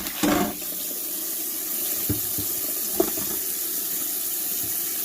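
Tap water runs steadily into a pot sitting in a kitchen sink, a continuous close splashing rush with a few light knocks of the pot.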